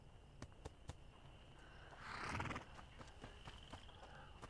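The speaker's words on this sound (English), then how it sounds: "There's a horse here." A horse in the video game A Plague Tale: Innocence gives a single rising whinny midway through, moderately loud over a steady ambient bed with scattered clicks.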